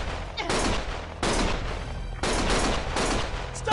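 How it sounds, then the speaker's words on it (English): Bursts of heavy gunfire in the video game Lost Judgment, several loud, dense volleys crackling one after another with brief dips between them, close and harsh, no voices audible. "Stop shooting!"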